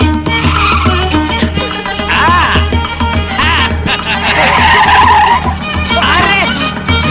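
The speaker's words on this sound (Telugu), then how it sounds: "నువ్వు ఇంత స్పీడ్ గా డ్రైవ్ చేస్తుంటే నాకు చాలా హ్యాపీగా ఉంది" In a Telugu film scene, a car is driven very fast, with loud engine roar and screeching, skidding tyres sustained throughout and voices mixed in.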